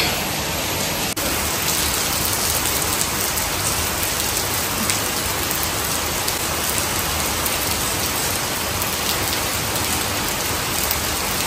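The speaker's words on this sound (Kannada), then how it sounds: "ಮಳೆ ಬರ್ತಾ ಇದೆ" Heavy rain pours down outside, a dense, loud, unbroken roar of falling water across the whole stretch, with no voices.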